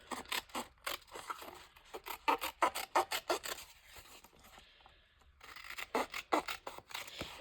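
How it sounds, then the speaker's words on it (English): Serrated Tim Holtz scissors chop through material in a quick series of crisp, close snips, pausing briefly before another burst of cuts. "These are Tim Holtz scissors. They're good scissors, but they're serrated."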